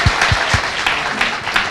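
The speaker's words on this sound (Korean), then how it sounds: "박수 부탁드립니다." Audience applause at a live Korean talk show taping, a dense steady wash of clapping close and fairly loud, with a few stronger thumps, no talking over it.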